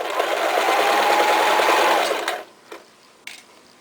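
A sewing machine stitching fabric for an eye pillow runs in a steady, close whirring burst for about two seconds, then stops, followed by a couple of faint clicks.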